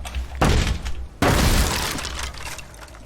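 Breaking open a blocked passage in the video game Dead by Daylight: two loud, sharp smashing crashes, the second the longer with debris crumbling and fading away after it, with no talk.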